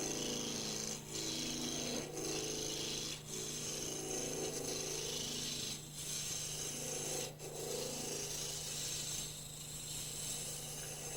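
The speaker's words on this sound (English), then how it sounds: "Remove the corners with the roughing gouge" Roughing gouge cutting a wood blank spinning on a lathe, taking corners off to shape an egg: a steady, continuous rasping scrape over a low motor hum, with several brief dips as the tool lifts off.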